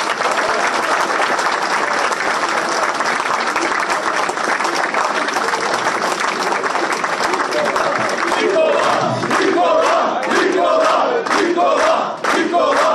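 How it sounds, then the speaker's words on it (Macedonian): A rally crowd in Lyubash roars with continuous applause and shouted cheering for VMRO-DPMNE leader Nikola Gruevski, loud and dense throughout, with chanting voices rising over the clapping in the later seconds. "Еден голем аплауз."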